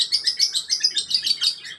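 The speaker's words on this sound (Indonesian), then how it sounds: "Nah, itu dia burung kepodang." A black-naped oriole perched high at the top of a tree calls in a rapid run of bright, chirping notes, clear and fairly close, with no talking.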